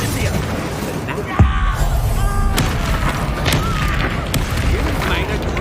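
Incendio fire spell cast during a duel in Hogwarts Legacy: one sharp, booming burst rises out of a busy stream of combat effects, with voices talking throughout.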